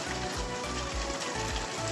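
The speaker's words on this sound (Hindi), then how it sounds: "ये देखिए एकदम ताज़ा पानी भी आ रहा है यहाँ से।" Steady broadband watery rush with a low rumbling undertone, fresh water running and trickling from a hollow hillside nearby, continuous throughout with no voices.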